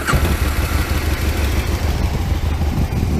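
An Aprilia RSV Mille 1000 motorcycle engine runs close by through a new, larger exhaust, a loud, steady, deep throbbing idle with a lumpy low-end beat.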